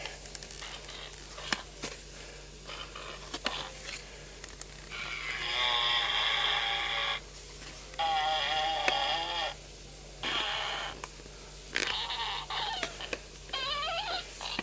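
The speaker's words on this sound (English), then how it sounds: "6-sound tooting machine" Letter Rip toy sound machine playing fart noises, several short buzzy and warbling bursts separated by clicks and handling noise, close and fairly loud.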